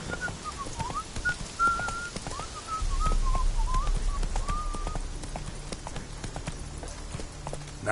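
A horse galloping in a PlayStation 4 video game: a steady, loud clip-clop of hooves runs throughout, with a whistled melody sounding over it early on.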